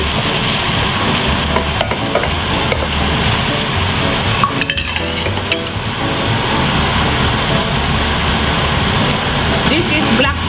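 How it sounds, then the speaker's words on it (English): Onions and garlic sauté in a pot for beef sopas, a loud, steady sizzle with stirring scrapes running through the whole stretch, close and continuous with no talk over it. "Now we're gonna put onions, a lot of onions"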